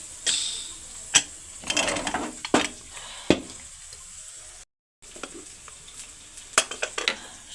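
Vegetables fry in leftover oil in a pan on a village wood-fired chulha, a steady soft sizzle broken by repeated close scraping and clinking stirs, with a brief silent gap midway.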